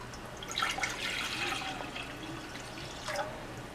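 Water, 750 ml, splashes and trickles steadily into a pan for making tea, a broad wet rushing that swells briefly twice, with no talking.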